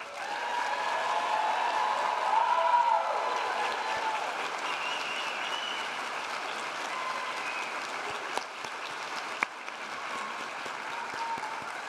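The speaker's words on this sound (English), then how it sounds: "If we could give one more round of applause for our graduates." A graduation ceremony crowd applauds the graduates with sustained, even clapping that fills the room, fairly loud at first and gradually easing off, with a few sharp isolated claps near the end.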